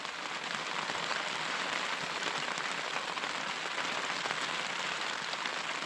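Rain drums steadily on a tent during a cold storm, a dense, even patter of countless drops close overhead that holds without pause, with no talk.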